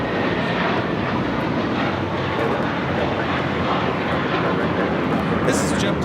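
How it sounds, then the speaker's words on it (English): A JetBlue Airbus A321 takes off at Los Angeles International Airport, its engines making a loud, steady roar that fills the whole stretch without a break, with a voice talking underneath. "this is JetBlue Flight 100 taking off to Fort Lauderdale on the A321"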